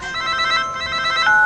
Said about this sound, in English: I'm calling you on my new Wiz wireless camera phone